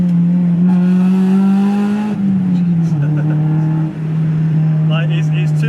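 A Honda Civic Type R EK9's engine revs loud and close, its pitch climbing steadily as it pulls toward VTEC, then dropping on a shift before holding a steadier drone.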